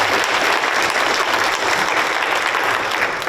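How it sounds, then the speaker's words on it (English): Continuous applause from an audience at an appreciation breakfast, an even, dense wash of many hands clapping at steady volume throughout, without speech. "You guys can just wave a little bit and give them applause."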